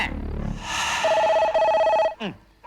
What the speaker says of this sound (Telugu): అటు టెలిఫోన్ ఇటు కుక్కలు ఒకదానికోటి పోటీ పడి అరుస్తున్నాయి